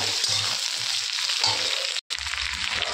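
Potatoes and green chilies stir-fry in a hot pan, giving a steady, loud sizzle with soft low scraping strokes from stirring and one brief dropout near the end.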